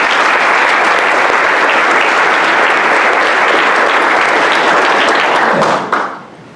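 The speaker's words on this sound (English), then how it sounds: "Let's give them a round of applause." Loud, sustained applause from a large audience at a judge's career celebration ceremony, steady clapping that fades off sharply at the end.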